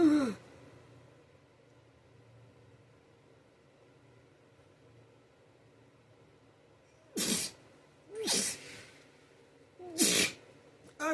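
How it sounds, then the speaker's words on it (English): Three sharp sneezes burst out one after another near the end, each loud and close, after a long stretch of quiet indoor room tone with a faint low hum. "Do I have to sneeze?"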